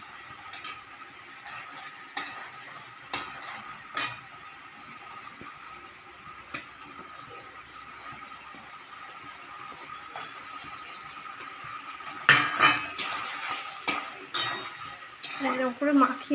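Eggplant pieces are tossed through mustard paste in a pan, giving soft scraping and clinks from the spoon against the metal with a faint low sizzle, building to a livelier burst of stirring toward the end.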